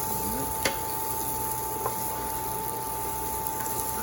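Rice toasting in a hot pan for a stir fry gives a steady, quiet sizzle with faint stirring scrapes and a couple of soft clicks, over a constant background hum, with no voices.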